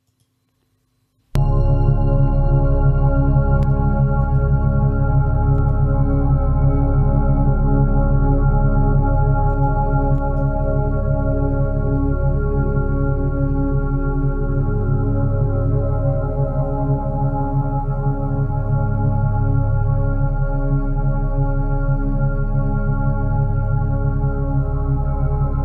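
A lucid dreaming sleep track of binaural beats and isochronic tones starts abruptly and then holds steady, a dense layered drone with a fast pulsing texture and no voices.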